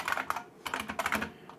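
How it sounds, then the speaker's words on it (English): Quick keystrokes on a computer keyboard come in two short bursts of clicks separated by a brief pause, close and moderately quiet, with no talking. "I can just use the keyboard to switch between each of these"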